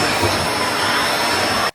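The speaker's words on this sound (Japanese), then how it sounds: "頑張って掃除機お願いします。" A vacuum cleaner runs steadily in a dusty, cluttered room, a loud continuous whine and roar held up close before cutting off abruptly at the end.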